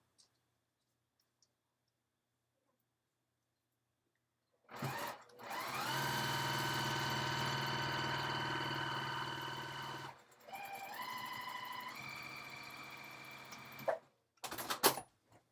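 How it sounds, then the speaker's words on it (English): A sewing machine stitches close to the edge of a fabric fold, starting abruptly and running steadily for several seconds, pausing, then resuming at a different pitch before short final bursts; close and clear with no talk. "I'm sewing really close to the edge of that fold"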